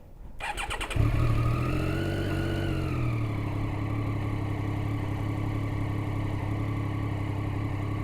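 A 2013 Triumph Daytona 675 three-cylinder sport bike fires up and settles into a steady, throaty idle close by, with a brief rev around start before holding an even, continuous hum.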